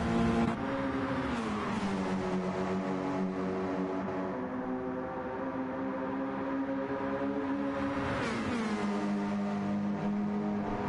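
Race car engine in a Nürburgring 24-hour GT World Challenge sim race, revving hard with steady harmonic whine, dropping in pitch at a gear change and climbing again, loud and continuous with no talk.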